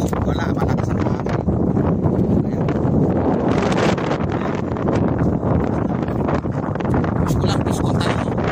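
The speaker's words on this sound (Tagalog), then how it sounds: "Malakas ang hangin." Strong wind out on the water during a fishing trip, roaring and buffeting the microphone as loud, continuous broadband noise that fills the whole stretch.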